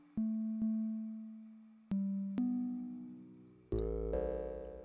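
Ableton Drift synth FM tone whose pitch is swept by a cycling envelope: repeated clean electronic notes, each starting with a sharp attack and sliding in pitch, ending on a brighter, harmonically richer tone, with no voices.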